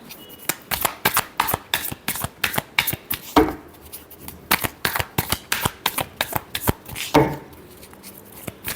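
A deck of tarot cards is shuffled by hand up close, giving a rapid run of crisp riffling flicks and slaps in quick rhythmic bursts, with a couple of heavier slaps along the way.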